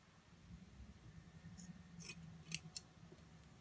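Scissors snipping hair while shaping an A-line bob, a few quiet, crisp snips spaced over a few seconds, the last two sharper and louder, with faint room noise and no talking.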